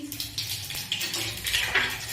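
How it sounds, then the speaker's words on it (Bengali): Nigella seeds hit hot oil in a metal wok as a fish curry with mustard and poppy seed is cooked. A light crackling sizzle rises alongside several sharp metal clinks of a utensil against the pan. "এবার আমি কড়াইয়ে আমি কালো জিরেটা দিয়ে দিচ্ছি"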